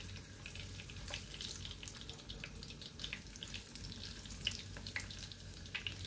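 Fish fries in a pan with a faint, even sizzle and scattered small crackling pops running throughout, no voices over it.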